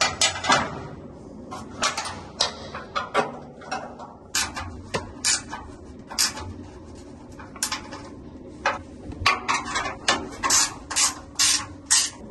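Wrench ratcheting on a bolt while tightening the belt drive of a 5 hp 184T three-phase motor, with rapid bursts of metallic clicks, close and fairly loud, separated by short pauses.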